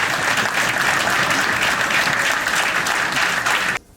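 A crowd at a national federal council meeting in Paris applauds loudly, a dense, sustained roar of clapping that stays full and even before cutting off abruptly just before the end.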